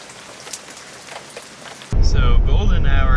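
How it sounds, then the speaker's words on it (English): Heavy rain pours down outside a packed car. It starts as a faint, steady hiss, then turns abruptly into a loud, close, dense drumming on the surface, with no talk. "It is pouring rain"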